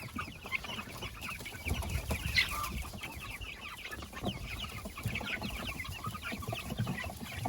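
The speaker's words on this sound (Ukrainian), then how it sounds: "Курчата дуже активні, галасливі." A flock of young chicks kept in a cage clucking and cheeping nonstop, busy overlapping calls with a noisy farmyard background.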